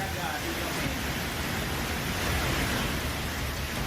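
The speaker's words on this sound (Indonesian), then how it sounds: "Hujan dengan intensitas tinggi terus melanda Provinsi Aceh." Heavy rain pours steadily during flooding in Aceh, Indonesia, a dense, unbroken hiss of downpour that stays loud and even throughout, with no voices over it.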